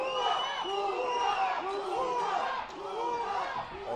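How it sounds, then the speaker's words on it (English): A hometown crowd at a boxing event chants in a rhythmic, repeated pattern and cheers, with the dense chatter of many voices filling the arena. "Hometown crowd here at Manuel Lujan building, exhorting Cabral on with chants of Puma"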